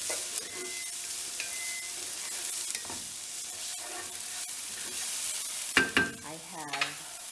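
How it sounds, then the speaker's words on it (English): Vegetables sauté over low heat in a pan with steady sizzling and soft hissing, punctuated by a few clinks and stirring scrapes near the end. "while this is sauteing, and I have it on low"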